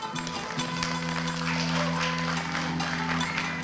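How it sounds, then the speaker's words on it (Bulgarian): An audience at a folk music festival claps in a sustained, dense burst of applause, loud and even from start to finish. "Аплодисменти!"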